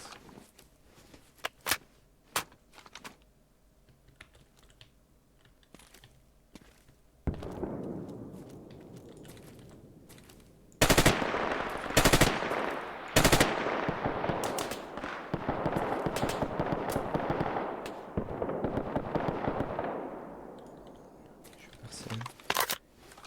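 Gunfire rings out in a Roblox war game, starting with scattered, sparse shots, then loud rapid bursts and sustained automatic fire, with voices at times.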